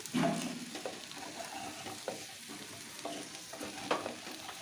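Chopped capsicum and tomato frying in a pan for spinach kachori filling, with a soft sizzle and repeated scraping and stirring strokes from a spatula, close up and without talking.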